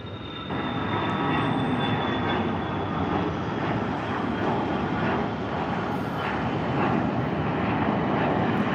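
Loud, sustained jet engine roar builds in after a moment and holds steady, a close airplane powering up at Tampa International Airport.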